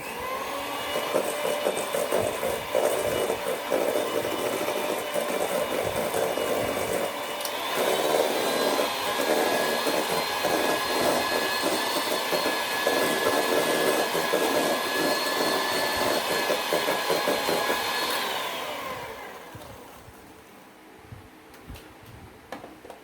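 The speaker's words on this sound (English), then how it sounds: "Put on your hand mixie." An electric hand mixer whirs in a steady, close, loud whine through brown sugar pound cake batter for about eighteen seconds, then winds down and stops.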